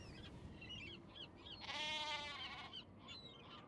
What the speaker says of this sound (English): Where are these sheep?